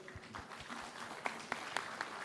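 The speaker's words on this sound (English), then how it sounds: "Give a huge applause to him once again." An audience at an international business summit applauds, a moderate wash of clapping with a few sharper individual claps standing out toward the end.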